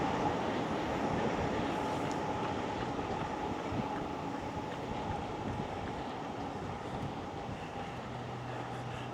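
A Green Line light rail train rumbles past at a distance on the Somerville Community Path, a steady low drone with some wind noise, no voices.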